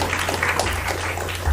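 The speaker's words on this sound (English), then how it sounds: "Let's give the minister a round of applause." A short round of applause for a minister at the launch event of Productivity Awareness Week, with steady clapping from an audience at moderate volume.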